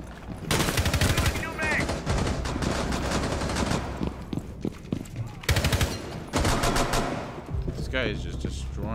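Pistol gunfire in the tactical shooter Rainbow Six Siege comes in loud, rapid bursts with short pauses between them, over game effects and a faint in-game voice.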